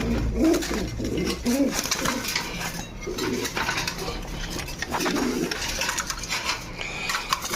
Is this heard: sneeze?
no